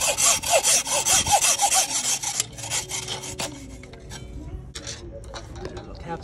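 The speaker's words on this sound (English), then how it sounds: "We'll try the hacksaw." A hacksaw cuts through a sail batten on a boat with rapid, rhythmic rasping strokes that start loud and close, then slow and fade into scattered scrapes and taps.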